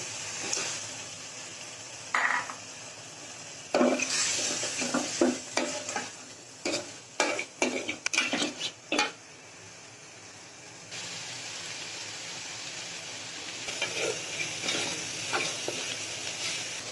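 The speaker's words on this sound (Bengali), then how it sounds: "এখন চিংড়ি মাছটা দিয়ে দিব।" Shrimp hit a pan of spiced masala for malai curry, setting off a loud sizzle and hiss of frying, broken by bursts of clattering spoon stirring and scraping, then settling into a steady fry.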